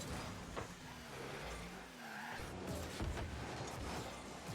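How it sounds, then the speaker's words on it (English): Faint default car engine hum and revving from Gizmo and Scarab cars in a Rocket League match, a low continuous drone that swells slightly. "they even have the default engine noises"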